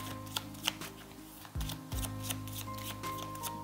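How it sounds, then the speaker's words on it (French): Tarot cards being shuffled for a cross spread, soft brushing and flicking sounds close by, faint over a steady background of music. "Je vais faire un tirage en croix."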